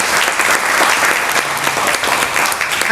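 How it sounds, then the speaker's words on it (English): Loud, close applause from a meeting audience, dense continuous clapping filling the room for the whole stretch with no voices over it. "Put a round of applause for Zach"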